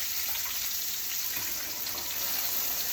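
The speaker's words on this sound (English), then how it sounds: "I'm going to rinse the tongs." Tap water runs steadily into a kitchen sink while a pair of tongs is rinsed, a continuous close hiss and splash with no talking.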